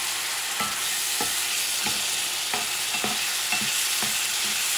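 Bison stew is stirred in a cast iron pot, with a spoon scraping in regular strokes about every half second over a steady sizzle, close up, with no talking.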